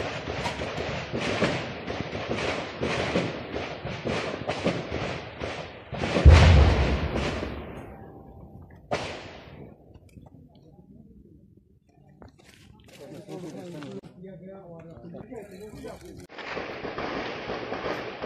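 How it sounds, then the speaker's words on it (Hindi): Gunfire during an encounter operation at Malhoora Parimpora, Srinagar: a dense run of sharp bursts and thuds, with one heavy loud blast, then quieter scattered shots under someone talking. "फायरिंग हो रही है, बहुत फायरिंग"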